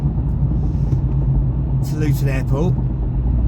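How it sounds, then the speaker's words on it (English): Steady low engine and road rumble inside a car driving on the M25 motorway, constant and close, with someone speaking briefly over it. "I'm currently driving on the M25"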